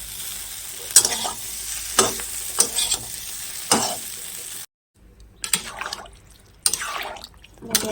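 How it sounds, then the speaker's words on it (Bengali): Fried potato and cauliflower are stirred with spices in a pan, giving a soft sizzle under repeated scraping strokes of a spatula, with a brief gap of silence midway. "মশলাটা কষিয়ে আলু ফুলকপি ভাজাগুলো দিয়ে একটুখানি মশলার সাথে নেড়ে চলে ভেজে নিই"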